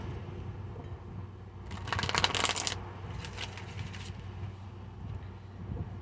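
A deck of tarot cards riffle-shuffled close up, a couple of quick crisp bursts of flapping, stiff cards over a faint steady background hum.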